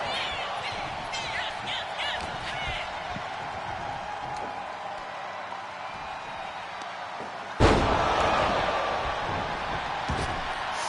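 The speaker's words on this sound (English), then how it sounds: "Slammed down to the ground by the Royal Assassin." A wrestler crashes down onto the mat in a wrestling video game: one sudden heavy slam bursts out over a steady crowd roar and arena noise, then a loud, dense crowd swell lingers afterward.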